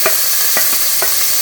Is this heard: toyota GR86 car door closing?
no